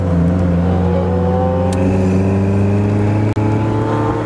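A car idling and revving on a race track at Pacific Raceways, heard from the seat before a parade test lap, a loud steady engine drone with strong harmonics and a brief dropout near the end.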